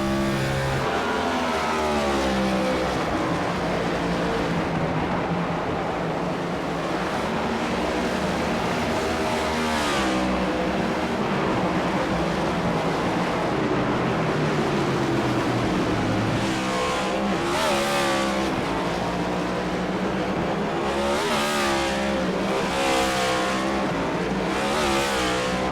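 Race cars at Sonoma during an AREA Cup Series race heard from trackside, loud engines roaring and revving continuously as cars pass and change gears, one engine note rising and falling after another.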